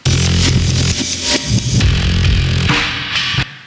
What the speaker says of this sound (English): with effects reverb, with effects distortion, like this